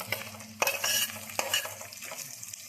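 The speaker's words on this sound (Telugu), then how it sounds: "జీడిపప్పులు కొంచెం కలర్ మారేదాకా వేగనిద్దామండి." Cashews frying in a pan sizzle softly, with a couple of sharp scraping stirs of a spoon against the pan, close by and without talk.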